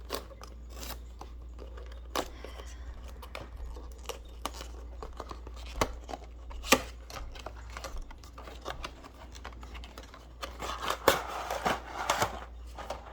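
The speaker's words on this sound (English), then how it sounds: "Opening up the second box, again from the bottom, we're just going to do, tear away for the tabs." Cardboard box tabs being torn open from the bottom, a quiet series of sharp tearing, snapping and rustling bursts with some denser crinkling near the end.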